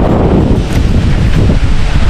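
Strong gusty typhoon wind (Typhoon Crising, Philippines) roaring across the microphone, loud and constant for the whole moment.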